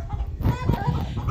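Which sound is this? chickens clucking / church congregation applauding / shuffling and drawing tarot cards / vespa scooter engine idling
chickens clucking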